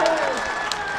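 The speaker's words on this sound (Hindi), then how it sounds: "आपकी तालियों का शोर उनके कानों तक भी जाना चाहिए" A crowd at a Lok Sabha election rally claps and cheers in a brief, fairly distant burst, blended with crowd murmur and a faint tonal hum.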